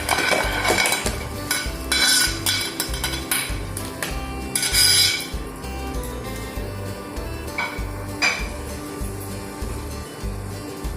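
Fried crabs are added to masala paste in a pan for a Bengali crab curry and stirred, with repeated metallic clanks and scrapes of a utensil against the pan under a low steady sizzle, close and without talk.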